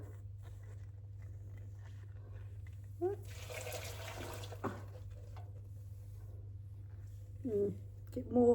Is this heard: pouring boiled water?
yes